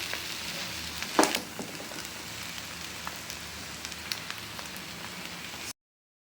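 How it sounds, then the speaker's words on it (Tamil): A bread sandwich fries in a pan over a low flame, giving a soft, steady sizzle and crackle throughout, with one brief louder clatter early on and no voices. "லோ ஃப்ளேமில் வச்சு தான் நம்ம இதை வேக வச்சு எடுக்கணும்"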